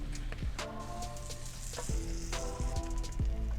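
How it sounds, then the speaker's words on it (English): Toast fries in plenty of butter in a pan for a croque monsieur, giving a close, steady sizzle with occasional scraping and clinking of utensils, and nobody speaks. "Make sure you have the butter, you have enough fat in the pan to fully caramelize the toast."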